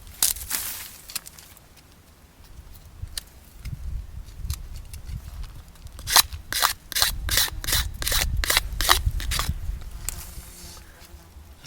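A dry mullein stalk is cut by hand with a blade, giving a run of rapid rasping, ratchet-like strokes in the middle of the clip after a quieter stretch of handling and scraping.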